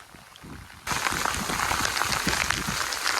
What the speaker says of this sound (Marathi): फायनली पाऊस इलो असा.